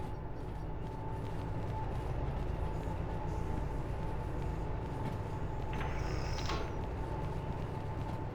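A train rolls steadily in the Derail Valley railway game, with a constant low rumble and hum, faint metallic creaks, and a brief squeal of wheels or brakes near the end.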